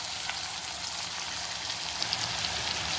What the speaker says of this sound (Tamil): Onion, sambar onion, tomato, 1 green chilli and some கறி லீவ்ஸ். இது நல்லா வதக்குறோம்.